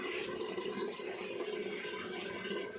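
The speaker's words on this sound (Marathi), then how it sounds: "झालं का गुडेकरांना पाणी भरून?" Tap water runs steadily into a container, a continuous close rushing and splashing that holds even throughout with no voices.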